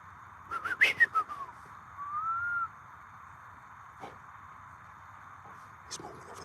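A loud, high whistle rings out in a few sharp bursts followed by a longer sustained note, then faint sounds in a quiet outdoor night.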